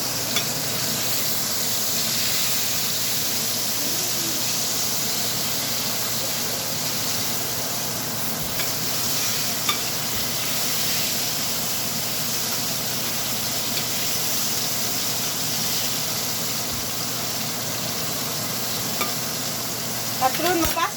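Fish fries in a pan for Thai sweet and sour fish, giving a steady, loud sizzle that holds evenly for the whole stretch with small occasional pops.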